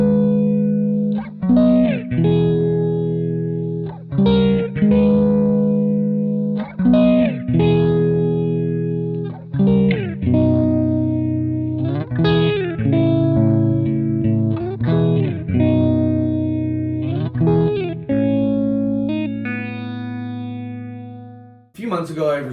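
Electric guitar played through a Yamaha THR10C modeling amp in a small apartment, with a series of ringing chords and picked phrases that sustain and decay under chorus and echo, close and full throughout.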